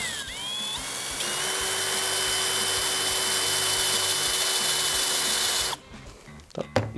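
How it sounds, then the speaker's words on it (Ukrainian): A STARK CD 18-2 B Li-ion cordless drill at first speed with a 10 mm bit bores into 5 mm metal, giving a loud, steady whining drone that runs close for almost six seconds before stopping abruptly, followed by faint clatter. "Тепер спробуємо метал, сверло в нас 10 мм, максимальний діаметр. І спробуємо тут 5 мм метал."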